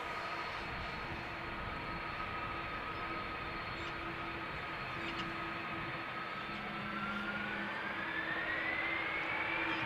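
Airbus A330 jet engines spool up for takeoff on runway 36L at Amsterdam Schiphol, a steady broadband roar with a sustained tone that rises in pitch toward the end as thrust builds, loud and continuous with no voices.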